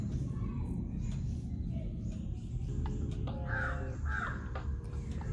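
Several crows caw in short, harsh repeated calls over a steady low background rumble, clustered most densely near the end.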